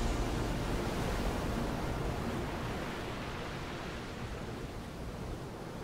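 Waves wash onto a black sand beach in Iceland, heard as a steady, broad, hissing roar of surf that fades gently and carries no voices.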